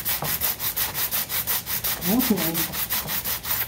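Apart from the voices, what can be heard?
hand sanding a wooden chromatic harmonica slider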